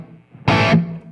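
A short distorted electric guitar burst, played into a computer with a room ambience effect, sounds loud and close for about a third of a second, then trails off into a brief hum.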